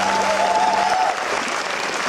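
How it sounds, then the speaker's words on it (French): A crowd applauds at an opening ceremony event in France, brisk continuous clapping heard close, with a brief tonal sound fading out early on. "On peut les applaudir"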